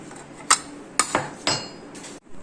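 Egg salad ingredients dropped into a bowl, with a few sharp clinks of a utensil against the dish in separate knocks about half a second apart, close and clear in a quiet kitchen.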